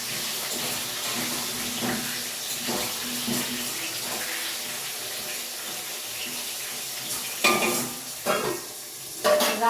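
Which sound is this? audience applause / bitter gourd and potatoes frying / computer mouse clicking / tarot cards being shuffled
bitter gourd and potatoes frying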